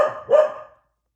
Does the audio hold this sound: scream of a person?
no